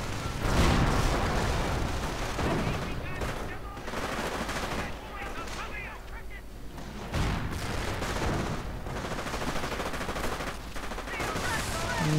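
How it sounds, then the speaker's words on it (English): Gunfire in a World War II real-time strategy match, with a very heavy tank destroyer and panzergrenadiers in combat: dense, continuous battle noise with rattling volleys and rumbling blasts throughout, loud and layered with no clear pauses. "Guns firing."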